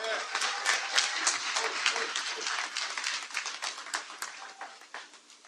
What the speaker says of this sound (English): let's give it a round of applause one more time